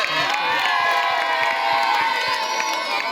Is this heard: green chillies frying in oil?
no